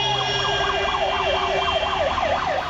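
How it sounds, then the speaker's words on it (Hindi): A VIP car convoy's hooter siren wails continuously as vehicles pass on the road, a steady rising-and-falling warble repeating about every half second, loud and close, with traffic rumble beneath. "सड़क पर गुजरता गाड़ियों का काफिला, लाल बत्ती के साथ हूटर की आवाज"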